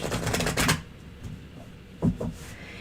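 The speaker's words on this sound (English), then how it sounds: "I am shuffling for a general for K-Dash" Tarot cards being shuffled by hand, a dense papery riffling burst over the first second, then quieter rustling and a couple of soft handling taps, close and without voices.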